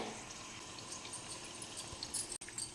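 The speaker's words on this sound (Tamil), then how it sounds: "இந்த தண்ணி வந்துட்டு கொதிக்க ஆரம்பிச்சிடுச்சு பாருங்கள்" Faint, soft bubbling of water simmering in a pot before flattened rice is added for aval kesari, a continuous low wash of noise with no voices.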